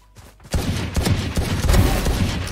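Rapid gunfire bursts in the shooter video game Valorant, loud and close, overlapping shots in a dense volley after a brief quiet start.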